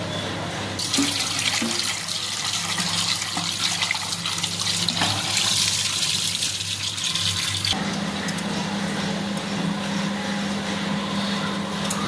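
Tap water runs steadily into a sink as potatoes are washed before being cut for a potato fry. The close, constant rush shifts in tone partway through as the flow or the potatoes move, with no talking.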